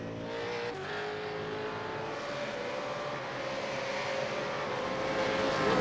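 V8 Supercars racing at Barber Motorsports Park in Alabama, a steady, loud engine roar held throughout and building slightly near the end, heard from trackside.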